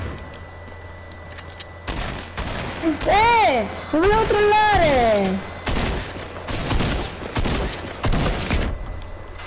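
Rapid bursts of gunfire crackle in an online shooter video game, arriving in close clusters of sharp shots. Excited voices talk loudly over and between the volleys.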